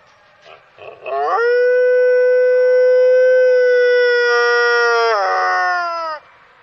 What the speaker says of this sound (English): Not a lot of people have heard a red wolf howl.